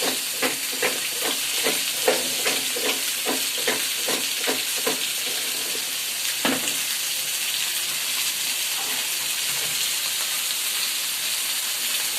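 Fish and pointed gourd frying in a pan, a steady broadband sizzle with a run of close stirring scrapes and clatters in the first half, then continuous hiss alone.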